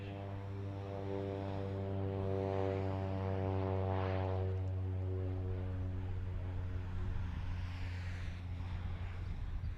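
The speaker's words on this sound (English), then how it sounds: "There goes the Cessna Grand Caravan back to Dallas." A Cessna Grand Caravan propeller plane takes off at Lancaster Airport in Pennsylvania, a steady droning engine hum with strong tonal harmonics that swells and holds at moderate distance for the full stretch, with no talk.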